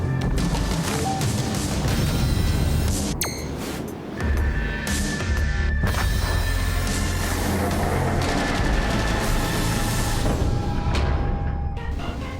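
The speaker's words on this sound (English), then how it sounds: "the Soviet battleship can fire from 9 guns at once" Heavy naval guns boom from the Soviet battleship Oktyabrskaya Revolutsiya in World of Warships, loud crashing blasts over a dense rumbling battle din, with sharp impacts scattered throughout.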